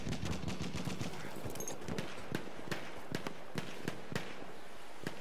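Gunfire in the Battlefield 1 shooter game: rapid, sharp bursts of shots crackle steadily throughout, fairly quiet overall, with no talking over them.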